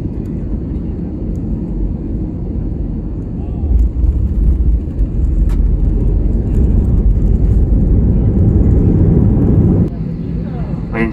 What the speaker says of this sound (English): আমাদের বিমানটি এখন নেপালের ত্রিভুবন ইন্টারন্যাশনাল এয়ারপোর্টে ল্যান্ডিং করছে।